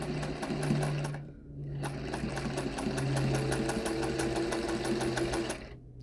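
A sewing machine runs steadily as it stitches a concave curved seam on fabric samples, its close, rapid mechanical whirring continuing for several seconds with one brief slowdown near the middle.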